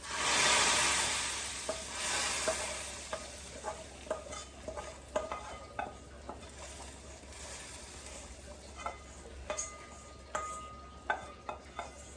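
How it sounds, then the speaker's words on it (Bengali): Cumin seeds sizzling in hot oil in a pan as they are stirred, a steady frying hiss that swells loudly at first, then settles under repeated clinks and scrapes of the spoon against the pot. "ভাইজা নিতে তেলে আর একটু জিরা দিব স্মেলের জন্য"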